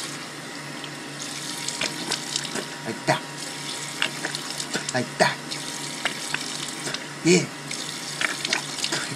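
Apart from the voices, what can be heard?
water running from a tap while rinsing the mouth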